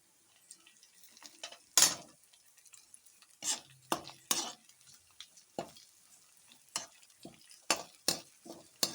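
Green chillies sauté in a pan for chicken thokku, a quiet sizzle broken by repeated sharp scrapes and clinks of a spatula stirring against the metal at an uneven rhythm.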